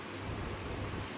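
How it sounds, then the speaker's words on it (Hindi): Rain falling steadily outside a moving train, a soft, even hiss with a low rumble underneath and no voices. "बारिश पड़ रही है"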